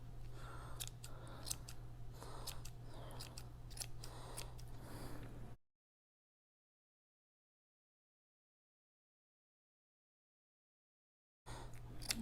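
Scissors snip the underside of a yarn pom pom, rounding it off and shaping one end into a narrow tail for a love bird, in a steady run of close, crisp cuts that stop partway and then briefly resume.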